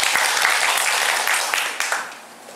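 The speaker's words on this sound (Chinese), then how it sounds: "那我们是用最热烈的掌声欢迎两位" An audience at a literary festival talk applauds warmly to welcome two speakers, a dense burst of clapping up close that holds steady for a couple of seconds, then thins and fades.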